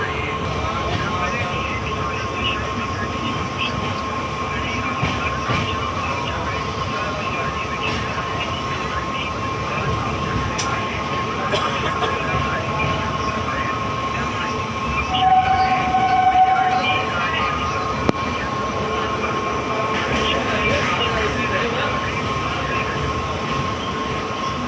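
The Swatantra Senani Express, an Indian passenger train, rumbles steadily along the rails, a loud continuous clatter and roar heard from on board, with brief tonal squeals midway.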